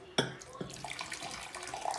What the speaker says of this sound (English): So first, I'm gonna pour hot water in these.